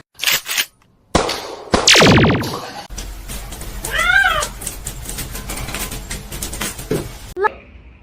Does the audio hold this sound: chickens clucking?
no